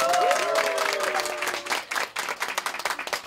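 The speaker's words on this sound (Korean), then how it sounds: "박수 한번 크게 쳐주세요." An audience at a community staff introduction breaks into loud, dense applause, with sustained clapping and crowd noise that thins toward the end into a few separate claps, while a held tone rings faintly beneath it.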